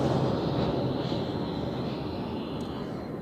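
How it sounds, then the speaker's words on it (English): A Boeing Dreamliner airliner lines up on runway 16 at Zurich Airport, its engines giving a steady, broad roar that holds evenly throughout, moderately distant, with no talk. "I show you the Dreamliner there, lining up on runway 16"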